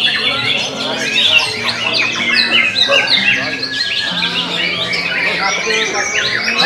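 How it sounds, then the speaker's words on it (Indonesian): A white-rumped shama, a murai batu songbird, sings loud and close with continuous varied whistles, chirps and trills, and a person talks underneath. "Bawa Kaco Murai Batu"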